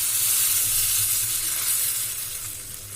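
Loud, steady sizzling hiss of hot oil tempering poured into sambar, crackling continuously close by and fading slightly toward the end.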